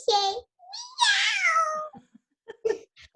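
A person imitates a cat, giving a drawn-out, sing-song meow followed by a second, longer, rising meow, with a few short spoken syllables trailing after.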